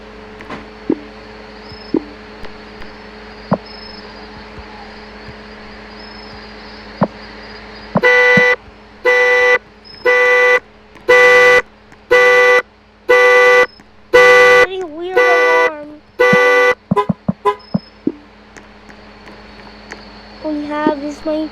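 A 2006 Ford Mustang's car alarm blares a rhythmic series of loud repeating horn-like bursts, followed by faster chirps and honks, with quieter clicks and background noise before it starts.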